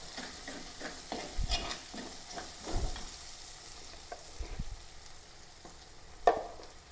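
Turmeric and other spice powders hit hot oil with softened ginger, green chili and garlic, giving a soft low sizzle under intermittent scraping stirs and a sharp clink of a spoon near the end.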